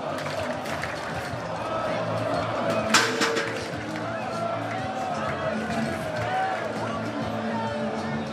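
A large outdoor crowd fills the Römerberg square at a reception for Eintracht Frankfurt, the Europa League winners, with a dense, continuous roar and clapping, a sharper burst near the middle and gusty wind noise throughout.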